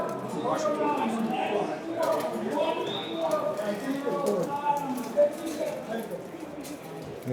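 Fancy pigeons at a pigeon show, larger breeds than racing homers alongside tumblers and pouters, coo and shuffle amid a busy hall with steady crowd chatter and scattered knocks close by.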